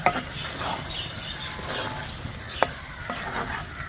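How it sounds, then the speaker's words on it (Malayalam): Chicken curry being stirred in a pot, a soft continuous scraping and simmering sizzle with one or two sharp clinks of the spoon, close by and moderately quiet, with no one talking. "അപ്പോൾ ഇതാ ഒന്നും കൂടി ഇളക്കി വെച്ച് കൊടുത്ത് നമുക്ക് ഒന്നും കൂടി മൂടി വയ്ക്കാം കേട്ടോ"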